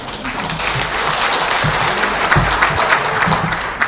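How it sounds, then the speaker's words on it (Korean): An audience at a business breakfast lecture in Korea gives a loud, full round of applause to welcome a speaker, dense and continuous clapping with a few murmurs underneath. "서진영 원장을 큰 박수로 맞아주시기 바랍니다"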